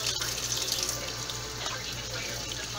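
Tap water runs steadily into a sink while handmade cold-process daisy soap lather is rinsed off, a continuous close hiss and splash with no talking.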